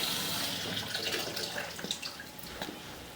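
Water from a flooded drain line, with groundwater seeping in, runs and splashes steadily into a drain, broadband and continuous with small surges, before being shut off.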